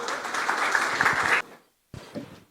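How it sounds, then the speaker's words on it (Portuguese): An audience at an investment talk event claps for two people called onto the stage, a loud burst of applause that cuts off abruptly, followed by a short pause and faint noise. "Fernanda e Nilson, uma salva de palmas"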